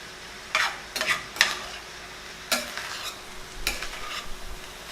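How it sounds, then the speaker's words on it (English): A spoon stirs red beans mixed with lime juice in a pot, making about half a dozen separate scraping strokes against the metal over a faint, quiet background. "Now let's just go ahead and mix this all in."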